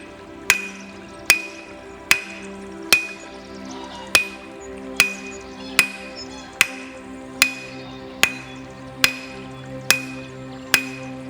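A 4-pound hammer drives tent pegs into the ground at a campsite, striking about thirteen sharp metallic blows at a steady, unhurried rhythm, each ringing briefly over faint background noise.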